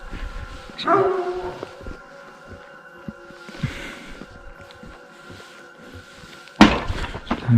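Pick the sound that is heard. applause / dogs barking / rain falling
dogs barking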